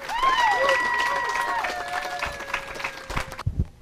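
Applause carries on for the Killers panel at a horror fan convention, mixed with whistles and sliding whoops from the crowd, thinning out and stopping abruptly near the end.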